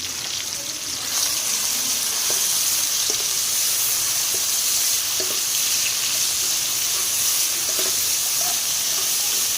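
Small pieces of chopped boneless chicken fry in a pan, giving a steady broadband sizzle with soft hissing that runs throughout, plus occasional faint stirring clicks.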